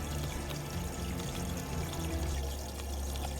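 Water from an auto top off pump pours steadily into an aquarium tank, a continuous near splashing trickle with a low hum underneath and no talk.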